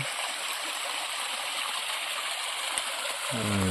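The Sunkoshi river in Nepal flowing past a riverside spot, a steady broadband rush of water throughout with a brief low rumble near the end.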